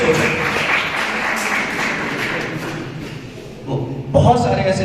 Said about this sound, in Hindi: तालियां हो जाए मैम के लिए